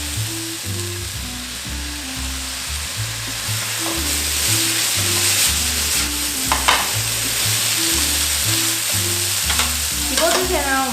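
Potatoes stir-fry in a pan after white vinegar is poured around the edge, giving a loud, continuous sizzle with scraping stir strokes over rhythmic background music.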